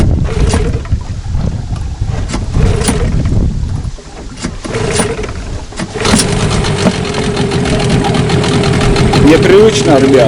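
Mikatsu 9.8 outboard motor running on a new boat, a steady engine drone with tonal whine throughout, while people talk over it.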